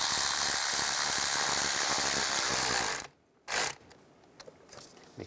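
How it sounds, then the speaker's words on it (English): A hose clamp on the coolant water outlet of a Chevrolet Cruze is tightened with a ratcheting tool, giving a fast, continuous whirring click for about three seconds, then a short burst and a few faint taps. "then tighten this clamp down"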